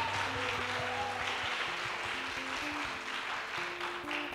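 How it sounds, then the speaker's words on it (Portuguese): Church congregation clapping in praise during a worship service, a continuous bed of many hands blended with sustained musical tones and voices, moderately loud and steady. "Dê um salve de palmas ao Senhor."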